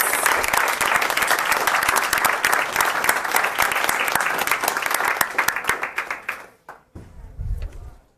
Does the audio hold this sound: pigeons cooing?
no